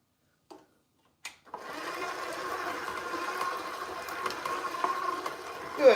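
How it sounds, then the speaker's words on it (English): A big electric stand mixer creaming American buttercream starts up after a couple of small clicks and runs as a steady, close whirring hum, with a louder rattle right at the end. "I'm glad I have this big mixer."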